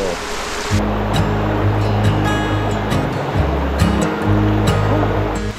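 Surf rolls steadily onto a rocky coastline beside a long white sand beach in Palawan, a loud continuous wash with a low engine-like drone running underneath.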